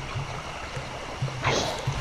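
Steady rushing water of a waterfall in the video game Sly 2: Band of Thieves, a continuous close wash with faint low thuds and no talk.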